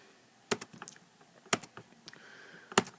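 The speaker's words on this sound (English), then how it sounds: "I'm just going to type that in." Sparse keystrokes on a computer keyboard, a few sharp clicks in small clusters with pauses between, close and quiet with no speech.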